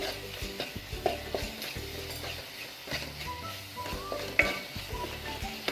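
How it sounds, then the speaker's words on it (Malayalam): Spoon stirring chili powder masala in a hot pan for carrot curry, with scraping strokes in an uneven rhythm over a soft background sizzle, close up. "എന്നിട്ട് എല്ലാം കൂടി നന്നായിട്ടൊന്നും കൂടി മിക്സാക്കി എടുക്കാം."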